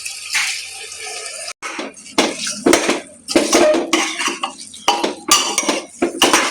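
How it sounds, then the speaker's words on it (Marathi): Washed rice and dal tipped into a metal pot for veg pulav, with spoon scraping, clinks of utensils and wet pouring, close and loud in bursts with short pauses. "तांदूळ आणि डाळ, ती टाकून घ्यायची."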